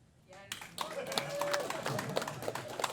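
Scattered clapping from a small audience builds after a brief pause and continues steadily, moderately loud, with some voices mixed in.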